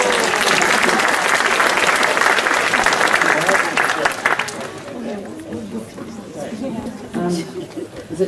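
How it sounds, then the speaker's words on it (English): Crowd applause at a primary school's official site opening, loud and dense for about four seconds before thinning out, with murmuring chatter continuing underneath. "Give her a round of applause"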